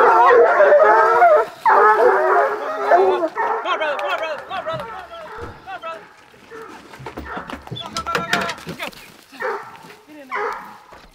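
Several hunting hounds bay and howl during a bear hunt in West Virginia, their long overlapping cries loud and near at first, then thinning into scattered yips and barks, with a voice breaking in.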